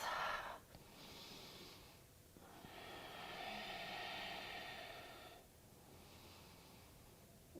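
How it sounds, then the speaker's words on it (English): Ujjayi breathing during a yoga session, a slow, throat-narrowed breath that rises and falls in soft, ocean-like hissing swells. It stays faint and steady, with no talk. "And breathe. Don't forget the Ujjayi breath."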